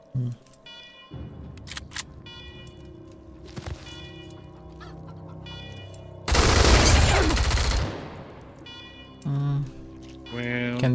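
Gunshots in the video game Wasteland 3, with scattered sharp cracks and one long, loud burst of fire in the middle of the clip, set among game sounds and tones while players talk.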